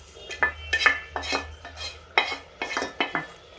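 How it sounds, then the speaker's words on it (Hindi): Spoon stirring peas into simmering gravy in a pan, a series of close, distinct scraping and clinking strokes against the metal in an irregular rhythm, with no talking. "अब मटर डालने के बाद इसको चला देते हैं।"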